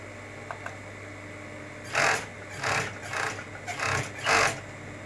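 A sewing machine stitches a women's mandarin-collar shirt in several short bursts of whirring, starting and stopping with brief pauses between runs.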